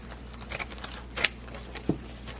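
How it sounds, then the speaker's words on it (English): Scissors trim up the side of embroidered fabric just off a magnetic embroidery hoop, giving a few short, crisp snips close by against a quiet background. "let's go ahead and cut up the side"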